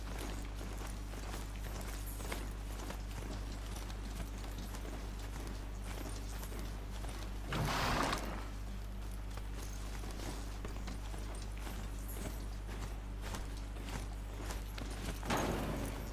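Horse hooves pound steadily in a rhythmic clip-clop while riding through a Horizon Zero Dawn game world, continuous and mid-distance over a low ambient hum, with a louder rustling burst partway through.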